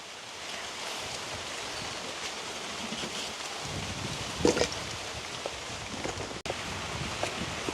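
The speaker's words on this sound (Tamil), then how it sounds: "ஆனால் மழை துமிச்சு கொண்டு இருக்குது" Steady soft patter of light rain, a continuous hiss with a few brief louder knocks and no voices.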